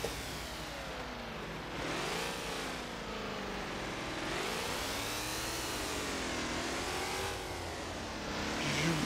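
A Jaguar XFR's engine in the City Car Driving simulator hums steadily, its pitch sweeping up and down in smooth waves as the car accelerates and eases off, with a continuous whirring drone throughout and no talk.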